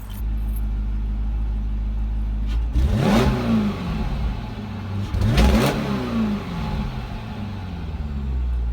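A supercharged Cadillac engine revved after a cold start, with two sharp throttle blips sweeping up and falling back through the exhaust pipes over a steady idle rumble.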